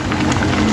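A pot of jackfruit mixture at a rolling boil, a dense, steady bubbling and hissing close up with no pauses.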